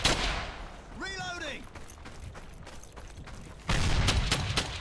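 Bursts of rifle and machine-gun fire ring out in the World War II shooter Brothers in Arms: Hell's Highway, scattered shots giving way to a loud, dense volley near the end, with a speaking voice and a rising whistle-like tone in the middle.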